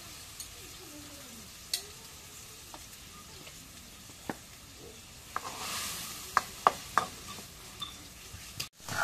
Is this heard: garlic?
yes